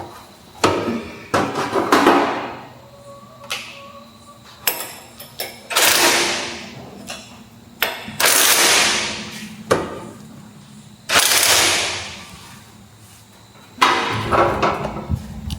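Bolts on a car's rear drive shaft being undone, with repeated bursts of tool whirring and sharp metallic knocks at irregular intervals, close and fairly loud.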